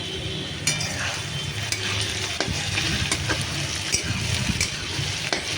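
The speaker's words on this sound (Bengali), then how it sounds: "এগুলোকে নেড়ে চেড়ে ভালো করে ভাজতে হবে।" Onions and vegetables frying together in a pan, a steady close sizzle broken by scraping, clacking stirs at irregular intervals, with no talking.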